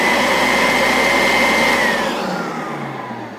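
A Fakir 350 softbag vacuum cleaner runs with a loud, steady whining roar, then its motor winds down and fades toward the end, with no voices.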